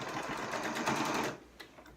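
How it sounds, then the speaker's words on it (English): A sewing machine runs in a fast, steady close-up burst while stitching a Halloween pumpkin dice bag, then slows and stops near the end. "now we go ahead and sew this section together"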